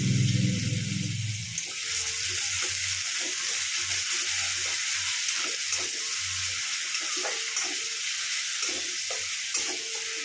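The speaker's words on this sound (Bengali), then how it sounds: "পেঁয়াজটা ভাজা হয়ে গেছে" Grated onion frying in oil in a pan for a fish curry, giving a steady, close broadband sizzle throughout with light stirring scrapes and clinks, no talking.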